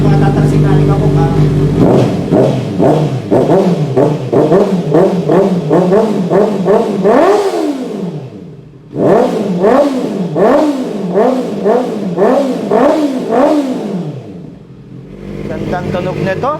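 A big bike motorcycle engine with a cat-delete exhaust revs hard and repeatedly up close, loud rising and falling throttle blips, pausing briefly before another run of revs.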